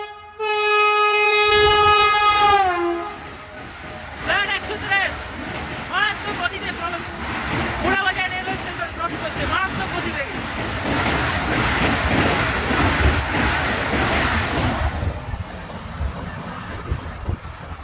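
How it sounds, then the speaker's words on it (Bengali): A train horn blares loudly, then the Patna–Howrah Vande Bharat Express rushes through Porabazar station at about 130 km/h with rapid clattering wheels and rushing noise that gradually fades. "চলে আসছে train number 22348 Patna Howrah Vande Bharat express"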